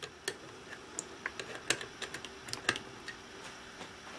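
Keys tapped on a computer keyboard hooked up to an Orange Pi PC Plus board: a quiet, irregular run of sharp clicks, a few louder strokes among them, close by with no talk.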